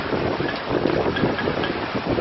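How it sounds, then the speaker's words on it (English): Extremely strong wind from a possible tornado touching down in Seminole, roaring steadily and loudly and buffeting the microphone throughout, with no voices. "That is the strongest wind I've ever seen in my life."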